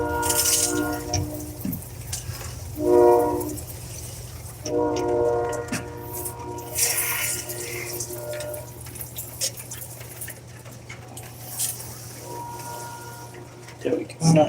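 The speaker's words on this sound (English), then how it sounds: "Sounds like there's a train passing by." Steady rumbling roar of a train passing by with a sustained horn-like tonal blast and rattling clatter, persistent throughout, fairly loud with occasional muffled voices underneath.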